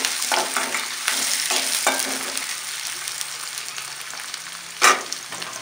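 Brinjal and onions fry in hot oil under steady stirring, a continuous sizzle broken by soft scraping strokes and one sharp clatter near the end.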